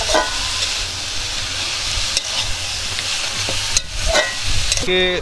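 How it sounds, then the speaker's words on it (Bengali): Cabbage, tomato and peas stir-fry in hot oil with panch phoron and dried red chili at an outdoor picnic, a loud constant sizzle with occasional spatula scrapes, close up and without speech. "তেলে 5 ফোড়ন, শুকনো লঙ্কা, বাঁধাকপি, টমেটো আর মটরশুঁটি দিয়ে এখানে ভালো করে কষে নিচ্ছি।"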